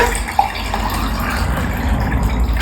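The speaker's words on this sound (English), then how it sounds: "So I'm just going to add my water" Water poured into a glass or container while making banana pancakes: a close, steady splashing trickle that lasts a couple of seconds, with no voice over it.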